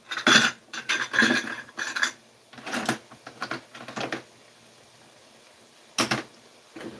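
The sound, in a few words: magnetic metal measuring spoons clattering against utensils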